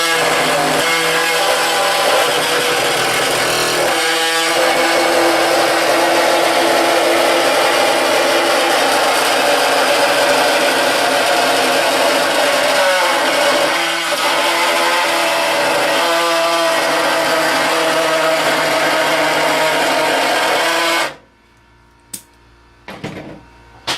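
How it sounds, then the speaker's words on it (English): A mini saw cutting through spot welds on a car body panel in a body shop, a loud continuous high-pitched buzzing grind that runs without pause for about twenty seconds, then stops, leaving a few faint clicks. "Demonstrate how people use some of the mini saws."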